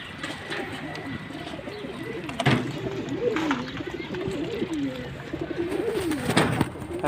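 Doves cooing in a tall cage tower, repeated rolling coos close by with overlapping calls, plus a few sharp knocks and rustles.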